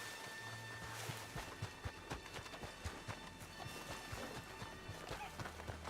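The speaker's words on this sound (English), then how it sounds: "I just heard the horses run by really, really quickly" A herd of horses gallops past in a video game, rapid hooves clip-clopping in a dense rhythm over a steady background hum, fairly faint and at mid distance, with no talking over it.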